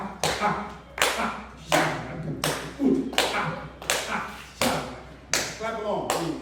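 An audience claps a slow maracatu rhythm during a music Q&A session, sharp unison hand claps in a regular pattern of about seven hits with brief gaps, fairly close and clear.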